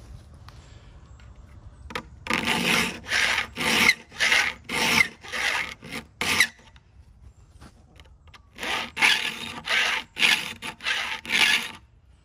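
Metal file rasping across the teeth of a vintage handsaw, sharpening it in a workshop: bursts of short, bright strokes in quick rhythmic runs, a pause in the middle, then another run of strokes, close and fairly loud.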